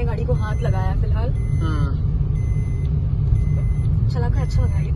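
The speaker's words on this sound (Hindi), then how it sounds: "पहली बार मैंने ये गाड़ी को चलाया इतने अच्छे से।" Maruti Suzuki Ertiga car being driven, with a steady low engine and road rumble throughout and people talking over it.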